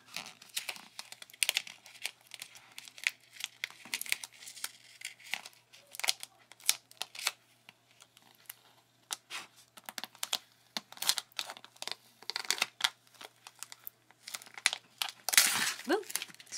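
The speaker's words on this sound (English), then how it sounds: "when you peel vinyl, always peel flat." Cricut craft vinyl being peeled flat off its backing sheet, giving a run of close crinkling, crackling rustles and sharp ticks that come in bursts with short pauses, ending in a louder tearing rip.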